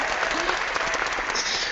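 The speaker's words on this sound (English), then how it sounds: "Oh, I love the applause." Studio audience applause greeting a guest on a legal talk show, dense and steady clapping filling the short stretch at even loudness.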